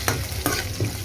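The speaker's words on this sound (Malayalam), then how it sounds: "ചെറുതായി നുറുക്കി വെച്ച ഇഞ്ചി, കുറച്ച് കറിവേപ്പിലയും കൂടി എണ്ണയിലിട്ട് നന്നായി ഒന്ന് മൂപ്പിച്ചെടുക്കുക." Chopped ginger and curry leaves fry in hot oil with a steady close sizzle, and a spoon stirs the pan three times at a regular pace. No one speaks.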